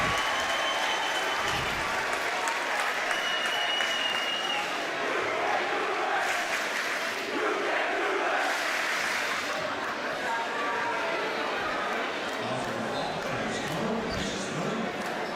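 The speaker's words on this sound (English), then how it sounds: "The crowd oohs and ahs." A crowd at a boys' varsity high school basketball game between Saint Joe's and East Brunswick roars, oohs and applauds in a loud, continuous gym din, with shouts, squeaks and bounces mixed throughout.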